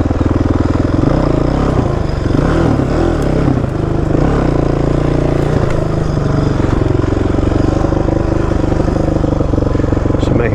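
A motorcycle engine runs loud and close throughout, its throttle rising and falling in uneven revs, with a dense rumble and wind-like roar that nearly drowns out a voice.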